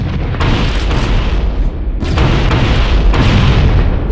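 Heavy, booming explosions rumble continuously from the Covenant destroying life pods aboard the Pillar of Autumn in Halo: Combat Evolved, with fresh blasts surging around one and three seconds over a loud, dense roar.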